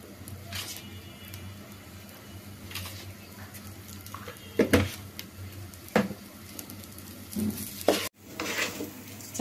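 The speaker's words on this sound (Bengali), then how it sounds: "চালটা এখন ভাজা ভাজা হয়ে গেছে," Rice fried in a pot with cardamom, cloves, black pepper, cinnamon and salt for beef biryani, stirred with a utensil, giving soft sizzling and repeated scraping, clinking strokes at close range.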